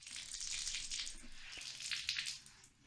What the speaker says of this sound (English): putting a towel in the bath and then wringing it out to get all those drip sounds